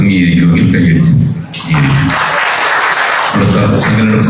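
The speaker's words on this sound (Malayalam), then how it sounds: "അംഗീകരിക്കുമെങ്കിൽ കൈയടിച്ച്" A crowd at a Kottayam state conference of a 108 ambulance employees' union bursts into a short burst of clapping that rises and fades, with a voice talking just before and after.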